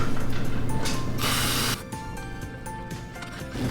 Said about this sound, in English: We're gonna spray this out.